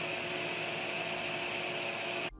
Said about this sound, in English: on the Ender 3, it's hardwired to be on all of the time, so even when the printer is sitting there idle, this thing is going to be buzzing away